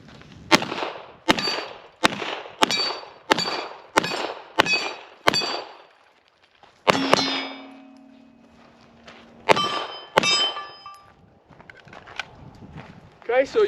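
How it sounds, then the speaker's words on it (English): Handgun fired while moving laterally at 10-inch steel targets, a run of eight sharp evenly spaced shots with ringing steel clangs, a pause with a lingering metallic ring, then several more shots and hits. "I'm gonna come the easy lateral and take out the 10-inch steel with a couple of shots"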